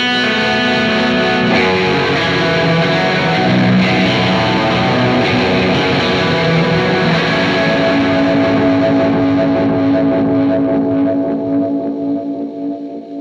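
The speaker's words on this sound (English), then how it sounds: "It's a compressor, a reverb and a delay, and it's very warbly and warped." Electric guitar chords ringing through a heavy warbling delay and reverb, pitch wobbling and echoes smearing together before fading out.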